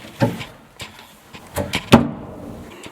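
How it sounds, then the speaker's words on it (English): A wooden cabinet door in a truck camper build being handled and shut, a series of sharp knocks and thuds with a firmer closing bump near the middle, then quiet. "We have got the first cabinet door of the day hung."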